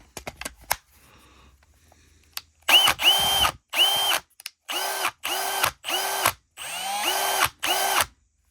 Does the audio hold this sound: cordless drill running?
yes